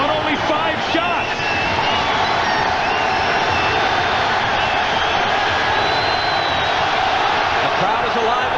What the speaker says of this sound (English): The crowd is alive at the Staples Center.